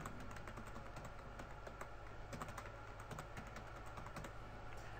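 Fingers type a password on a computer keyboard, producing a steady run of soft, quick keystroke clicks at close range over a constant low background hum, with no talking.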